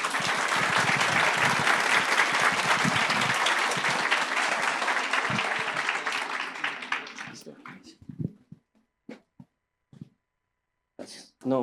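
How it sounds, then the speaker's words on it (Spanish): Strong, sustained applause from a conference audience for two speakers, Doctor Víctor and Doctor Luis, holding dense and loud for about seven seconds, then thinning to scattered claps and brief voices before a final short burst. "Para ellos un fuerte aplauso, por favor."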